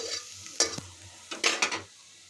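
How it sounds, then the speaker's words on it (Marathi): Chopped onion sautéing in hot oil for chicken biryani, a soft low sizzle punctuated by a couple of sharp spatula stirs and scrapes, close and without speech. "तेल तापल्यानंतर आपण त्यात थोडं एक कांदा चिरून घेतलेला आहे, तो लाल होतो तोपर्यंत परतून घेणार आहोत"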